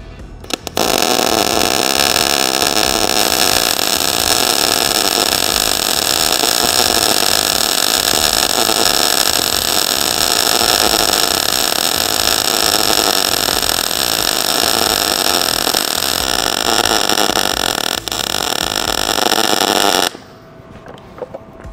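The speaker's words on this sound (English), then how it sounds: "I think I'm just gonna weld with it." Gas-shielded welder laying a first pass straight out of the box, a steady loud buzzing crackle held continuously for about twenty seconds before cutting off abruptly, with no talking over it.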